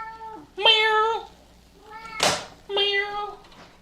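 A cat meows three times in drawn-out, wavering calls, fairly close, with quiet room noise in between.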